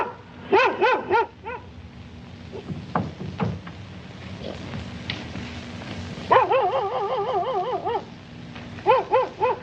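A dog barks and yelps in several loud bursts, with whimpering between them, heard near and mostly alone.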